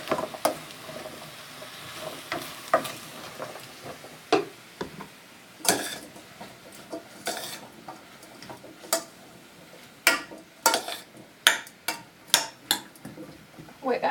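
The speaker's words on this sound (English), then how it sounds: "I'm going to give this a stir around" A spoon scrapes and clinks against a pot while spiced vegetables are stirred in coconut oil, with irregular sharp ticks and knocks, some close and loud, others softer, over a quiet background.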